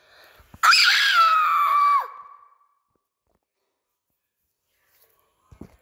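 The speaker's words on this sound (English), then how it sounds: "I'm gonna literally scream like." A person letting out a single loud, shrill scream of frustration at a game that won't load, lasting over a second and trailing off, followed by near silence and a faint click.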